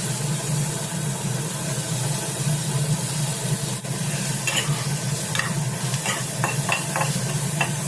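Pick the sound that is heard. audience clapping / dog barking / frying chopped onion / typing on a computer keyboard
frying chopped onion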